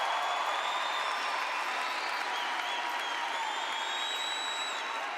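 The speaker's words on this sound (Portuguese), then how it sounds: "Pode aplaudir, pode aplaudir," Audience applause at a Catholic youth faith event, a steady wash of clapping with faint cheering and whistle-like tones over it, distant and unbroken.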